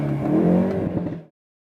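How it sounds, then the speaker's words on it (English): A 2019 Hyundai Veloster engine roars and revs loudly and up close for over a second, exhaust baffle opened, then cuts off abruptly into silence. "the engine itself definitely makes itself known"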